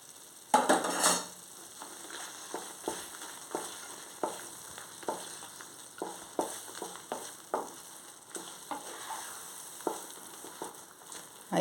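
Sago halwa with fried cashews and almonds being stirred in a pan: a faint steady sizzle under repeated soft scrapes and clinks of a spoon against the pan, irregular and close, with no talking.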